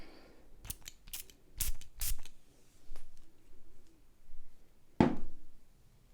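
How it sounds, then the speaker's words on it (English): Perfume is sprayed straight onto skin in a few short, sharp hissing bursts close to the microphone, separated by quiet gaps, with one final spritz after a longer pause. "I'm just going to spray it straight on skin."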